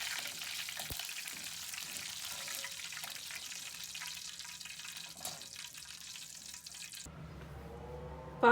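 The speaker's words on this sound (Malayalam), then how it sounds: "രണ്ട് തണ്ട് കറിവേപ്പിലയും ഇട്ട് വറക്കുന്നു" Curry leaves sizzle and crackle in hot oil for a crispy bitter gourd fry, a continuous, fairly faint hiss with small pops before the sound abruptly cuts to something quieter.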